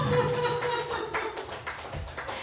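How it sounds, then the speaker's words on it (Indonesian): A group of women clap together during a guided group exercise indoors, producing a steady spatter of overlapping claps that fills the short moment, with no talking over it. "tepuk tangan untuk kita semua"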